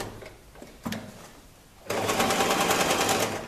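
A sewing machine runs on fabric, a few short clicks and a thump at first, then a steady rapid stitching rattle that starts abruptly and carries on close and loud to the end.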